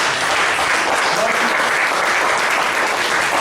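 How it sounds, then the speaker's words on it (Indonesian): An audience at a Topeng Lango Wedana festival mask workshop claps in a loud, steady, dense round of applause that holds at the same level throughout. "Sekali lagi berikan aplaus tepuk tangan kepada beliau."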